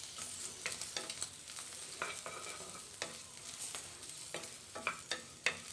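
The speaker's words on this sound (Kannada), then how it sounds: "ನೋಡಿ ಫ್ರೆಂಡ್ಸ್, ಬೆಂಡೆಕಾಯಿ ಚೆನ್ನಾಗಿ ಉರಿದಾಗಿದೆ" Okra (ladies finger) frying in a little oil in a pan, a steady soft crackling sizzle with irregular clicks and scrapes of stirring, fairly faint and close, with no talking.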